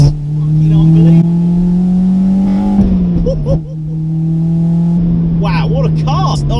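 Modified Honda EP3 Civic Type R engine pulling hard in second gear through a corner, a loud steady drone from inside the car that dips briefly mid-corner then builds again, with a voice talking excitedly over it.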